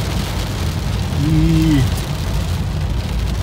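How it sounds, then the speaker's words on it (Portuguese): Heavy rain drumming on the roof and windows of a car, heard from inside, a dense and loud steady wash with a low rumble and a brief faint voice partway through. "tá muito barulho, né, da chuva dentro do carro"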